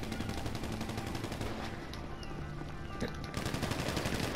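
Sustained automatic gunfire rattles through an online first-person shooter match, dense overlapping bursts of rifle fire running almost without a break, loud and close throughout.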